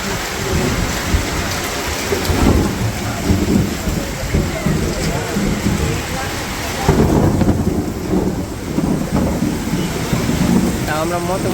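A heavy thunderstorm over a Bangladeshi village brings loud, constant rain drumming on surfaces with deep rolls of thunder swelling in and out, and voices faintly mixed beneath the downpour.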